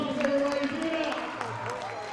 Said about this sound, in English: Give Luke and Carlos a big round of applause, everybody